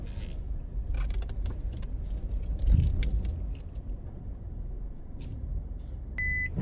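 Car engine and road noise steady through a slow turnaround on a residential drive in University Crescent, Kingston, Jamaica, with a brief louder swell midway and a short beep near the end.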